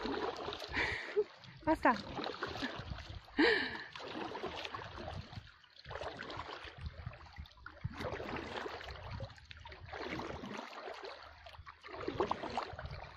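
Oars splash and dip at an irregular rhythm as a boat is rowed on calm water, close and fairly quiet, with people talking over the strokes.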